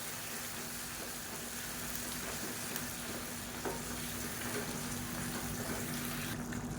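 Cabbage kootu with moong dal and chana dal boils and sizzles steadily in a pan, a continuous bubbling hiss with soft stirring.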